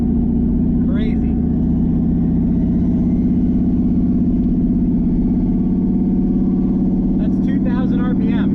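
A car engine with a turbo spools at around 2,000 RPM, a loud steady droning hum heard from inside the car while someone talks over it.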